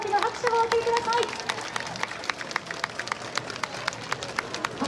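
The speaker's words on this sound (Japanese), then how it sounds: "大きな拍手をお送りください。" Audience clapping after a Tokyo Tensui-ren Awa Odori dance performance at an outdoor summer festival in Kiyose, a steady patter of many hands under a public-address voice and crowd chatter.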